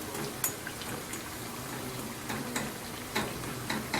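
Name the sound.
ghee deep frying potato patties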